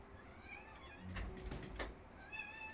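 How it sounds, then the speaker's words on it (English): A cat meows at a house door, a few faint, drawn-out calls over low background hum, with soft thumps and rustles of the door moving in between. "Out one cat and in another. The loud one."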